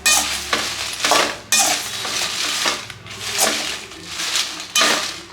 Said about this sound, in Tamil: மிளகாய் வந்து கருக விடாமல் கை விடாமல் கிளறிட்டே இருக்கணுங்க